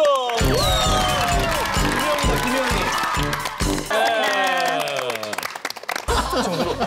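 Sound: studio audience applause and cheering

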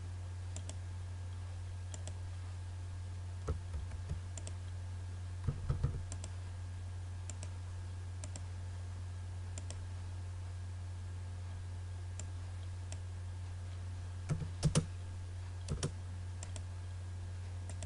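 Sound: typing AutoCAD commands on a computer keyboard

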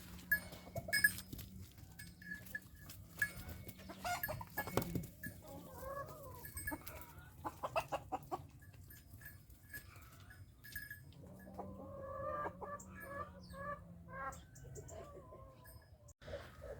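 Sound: chickens clucking

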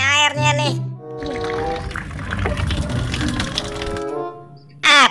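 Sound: water poured for a bath

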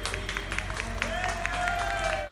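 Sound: applause from onlookers at a firefighter rescue

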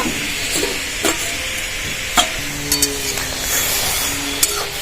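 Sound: stirring vegetables in a pan after removing the lid

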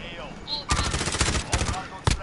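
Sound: gunfire in Call of Duty Warzone video game

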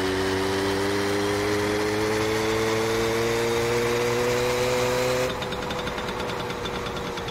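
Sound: motorcycle engine in video game My Summer Car

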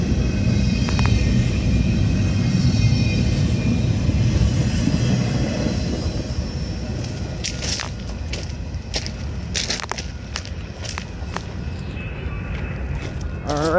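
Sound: Canadian Pacific train passing

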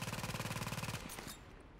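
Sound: machine gun firing in video game The Division

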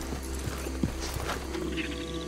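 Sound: horse hooves while riding in Red Dead Redemption 2 video game

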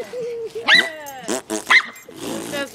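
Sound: dog barking and growling

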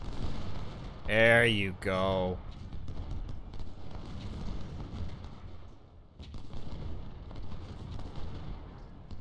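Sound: artillery fire in the Ultimate General: Civil War video game

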